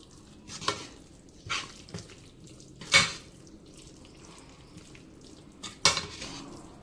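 Gongura chutney is stirred with ground cumin-fenugreek powder in a pan, making soft scraping and a few sharp clinks of a spoon against metal, close by, with quiet gaps between the strokes.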